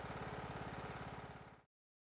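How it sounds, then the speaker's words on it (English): A Husqvarna lawn tractor engine idles with a steady, rapid pulsing chug, close and fairly quiet, then cuts off abruptly into silence. "you may need to idle the engine for several minutes before it's ready to be fully throttled"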